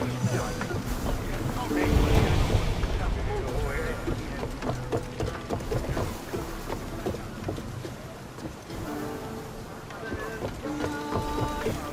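A sailing ship at sea in Assassin's Creed Odyssey, with a continuous rush of wind and washing water under layered tonal game sound, steady and full throughout.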